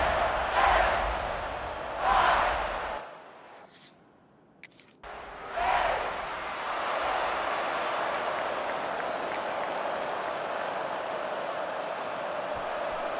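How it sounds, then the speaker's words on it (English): A large video-game stadium crowd roars steadily, a broad sustained wash of cheering with a brief lull partway through before swelling back. "listen to this crowd noise. This stadium is vibrating."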